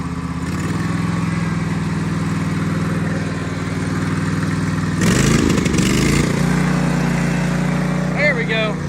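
A Clifford mini bike engine fitted with a new throttle runs loud and close, holding a steady idle-like drone before a sharp rise in revs around the midpoint, then settling at a changed pitch.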